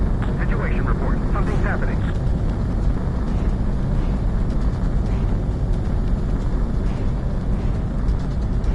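Fighter jet roaring on takeoff in Ace Combat 7, a loud continuous engine rumble throughout, with radio voices talking over it.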